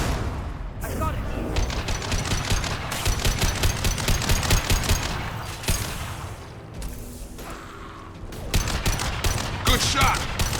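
Rapid bursts of automatic gunfire in a Mass Effect 2 firefight, dense and continuous with brief lulls, loud and close, with mechanical clanks and a voice speaking under the shooting.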